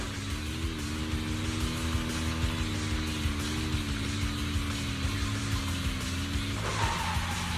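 A car speeds along a track in the video game Zenless Zone Zero, its engine droning steadily with a brief tire skid near the end, loud and continuous with no talk.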